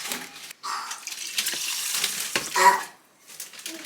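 Tap water pouring into a cooking pot of rice in a home kitchen, a close hissing splash that runs in bursts with brief pauses in between.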